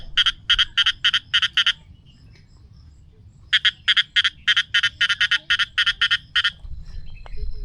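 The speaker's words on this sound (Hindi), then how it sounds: "यकीनन इस वक्त मेंढक की आवाज़ है।" Frogs croak in rapid, rattling bursts on a Margalla Hills trail in Islamabad, two long trains of pulsing calls separated by a short pause, loud and close over a low background hum.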